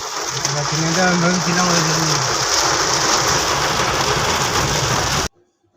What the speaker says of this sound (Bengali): এত বৃষ্টি পড়ছে, আমরা তো তখন ভাবছিলাম যে হয়তো আজকে দেখতেই পারবো না।